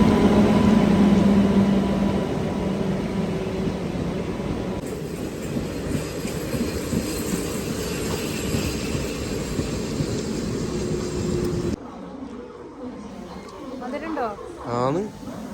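A moving passenger train between Malappuram and Kollam, a steady rumbling roar of carriage and wheels close by throughout, easing and changing character near the end, with people talking over it.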